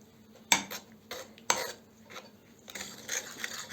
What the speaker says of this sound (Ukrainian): Зараз ми це розмішаємо.